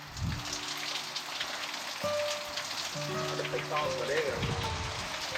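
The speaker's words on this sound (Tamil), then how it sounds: "ரொம்ப மழை." Heavy monsoon rain pours steadily, a dense, continuous hiss of drops hitting surfaces that fills the whole stretch, with faint tonal sounds drifting through in the background.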